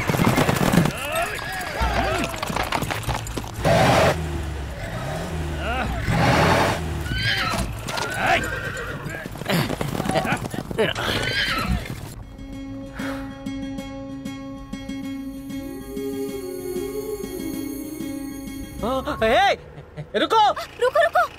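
Horses neigh and gallop during a chaotic buzkashi match of riders fighting over a goat carcass, with loud whinnies and hoofbeats among shouting voices, then dramatic music with talk over it.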